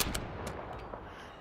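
Rapid gunshots from a Call of Duty video game crack in quick succession, with several sharp close reports over dense, rumbling battle noise and no talking.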